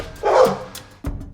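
A guard dog gives two loud, close barks, the first longer and the second short after a brief pause.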